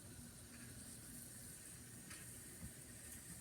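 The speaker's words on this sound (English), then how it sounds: "So now, while it's fizzing, you can hear it again." A homemade bath bomb fizzes in water, giving a steady, soft, even hiss that runs faint and unbroken throughout, with no voices.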